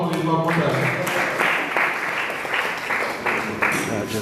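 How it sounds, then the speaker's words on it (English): Conference audience applauding the speaker's mother, clapping from a crowd in a hall with a voice speaking over the start before the applause takes over. "Can we give my mother an applause, please, one more time?"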